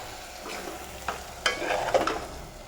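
Cinnamon, fennel seeds and other whole spices tempering in hot oil for chana masala, giving a soft steady sizzle with a few crackles and light stirring scrapes.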